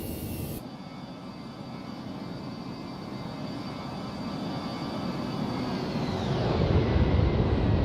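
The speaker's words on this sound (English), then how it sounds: "You guys want to do a little flyby? Let's make that happen" Simulated Airbus A319 doing a flyby in X-Plane 11: a steady broadband jet engine roar that swells louder toward the end as the airliner passes close, with no talking.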